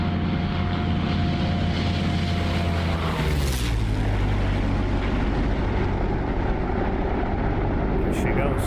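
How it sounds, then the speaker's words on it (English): A P-47 warbird in the DCS flight game makes a flyby, its propeller engine drone rising and then dropping in pitch as it passes, followed by a steady, loud engine roar. "let's get a quick little flyby of the P-47"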